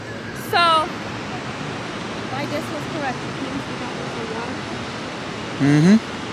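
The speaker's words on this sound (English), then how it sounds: "That's a big ass waterfall." The Paterson waterfall in a city rushes as a steady broadband roar of falling water, with people talking over it and a couple of sharp voiced exclamations.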